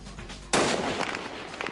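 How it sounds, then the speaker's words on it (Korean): A Korean special forces sniper fires a rifle through a glass window at a target about 225 m away. A single sudden, loud blast cuts in after a quiet moment, followed by sustained, slowly fading noise. "허공을 가르는 총소리와 함께 총탄은 유리창을 뚫고 테러범을 명중시켰습니다."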